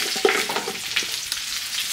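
Light brown sugar and minced garlic sizzle and fry in a pot still hot from cooking lamb chops, a steady close crackle with a few small stirring knocks.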